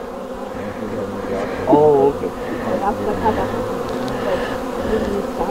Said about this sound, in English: Lots of foragers out, eh? There's not that many bees in here.